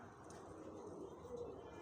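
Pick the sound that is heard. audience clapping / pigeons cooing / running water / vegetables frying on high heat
pigeons cooing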